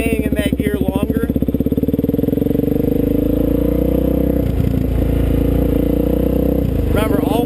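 Dirt bike engine under load as the clutch is popped for a wheelie, shown in second gear; a loud, steady close-up engine drone with a rev surge near the start and brief dips later in the run.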